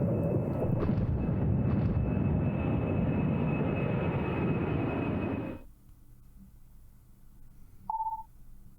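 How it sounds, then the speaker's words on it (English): Deep winter thunder rumbling in the video game Remember 11: The Age of Infinity during a snowstorm, a loud sustained roar that cuts off abruptly into quiet, followed by a short chime tone. "The sound of the winter thunder shook my body to its core."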